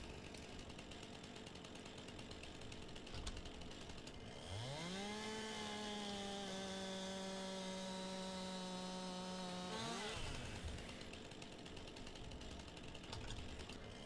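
A mower engine in Farming Simulator 19 spins up and holds a steady, droning whine for several seconds, then cuts off abruptly, with quiet ambient noise before and after.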